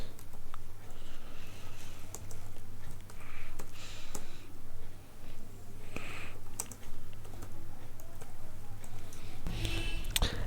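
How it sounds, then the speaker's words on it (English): Someone types a product name on a computer keyboard: a close, steady patter of key clicks with brief pauses, over a low constant hum. "let me type a random product example."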